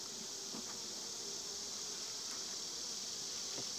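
Honey bees buzzing around a hive in a steady, continuous droning hum, close and moderately quiet, with a few individual bees passing nearer.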